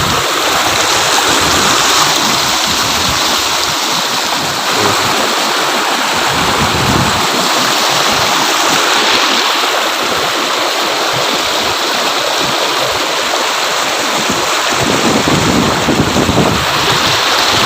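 A waterfall and cold mountain stream at Zero Point in Azad Kashmir rush with a steady, dense roar of flowing water, constant and close throughout with no pauses.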